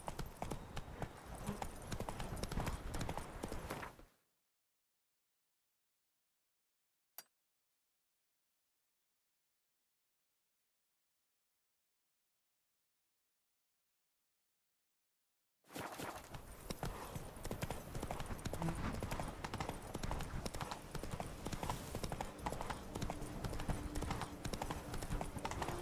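Roach the horse's hooves clop steadily in The Witcher 3, a continuous rhythmic run of hoofbeats that cuts to near silence for about ten seconds with a single click, then resumes just as busily.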